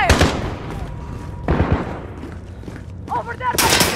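Gunfire in Call of Duty Modern Warfare, heard as loud, dense bursts of shots with heavy booming impacts, mixed with brief shouted voices during the firefight.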